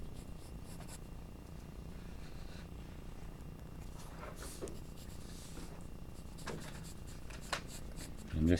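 A purple Prismacolor colored pencil scratches across paper in steady, soft, close strokes for several seconds, with a small knock near the end.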